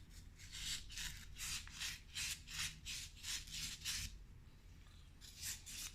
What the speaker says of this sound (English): So now we've sanded up where that's going to go into the push rod end